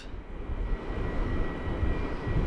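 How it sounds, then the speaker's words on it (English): A UPS cargo plane taxis at Sydney Airport, its engines a steady, fairly distant low rumble and whine that holds throughout with no talk. "this UPS just started taxiing"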